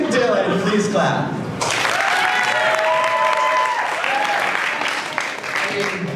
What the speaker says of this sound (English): If you think Dylan, please clap.